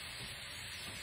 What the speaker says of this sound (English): I hear the frying as well.